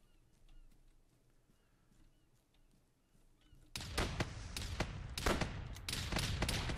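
Geese honk in an ARMA 3 battle scene, faint at first and then a loud, close burst of repeated honks and squawks that continues over a steady outdoor background.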